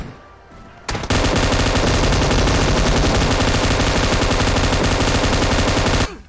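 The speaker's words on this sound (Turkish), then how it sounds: "Adam ölmüş hala arabayı tarıyorum man." Sustained automatic gunfire in PUBG Mobile sprays a car, a loud, dense, continuous burst of rapid shots lasting about five seconds after a brief quieter lead-in, then stopping abruptly.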